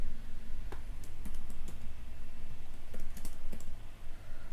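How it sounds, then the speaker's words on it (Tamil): A computer keyboard clicks and taps in quick scattered bursts while code is copied and pasted, set over a steady background hum with no voices. "இந்த கோடை காப்பி பண்ணி பேஸ்ட் பண்ணிப்போம்."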